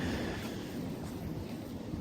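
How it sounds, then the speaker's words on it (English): Strong wind buffets the microphone in a continuous, rumbling roar with no pauses. "it's really windy here today"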